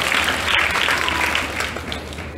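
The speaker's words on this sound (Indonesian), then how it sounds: "Tepuk tangan untuk Paulus." An Indonesian church congregation gives sustained, dense applause, a continuous wash of many hands clapping close and loud throughout, tapering slightly at the end.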